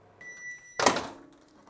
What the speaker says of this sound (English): Use the microwave, don't use the hob.